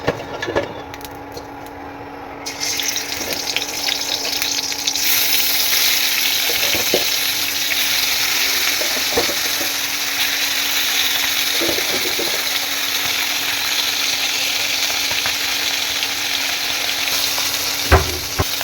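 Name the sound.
fish frying in hot oil in a wok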